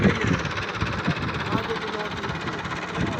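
A tractor engine runs in a steady low rumble on a muddy rural track where the vehicle has been stuck, with people talking over the continuous mechanical drone.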